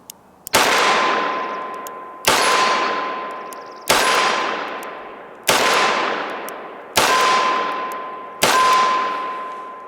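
Six loud revolver shots from a Smith and Wesson 686 at a shooting range, fired at an even cadence roughly one and a half seconds apart, each sharp crack ringing out and decaying before the next.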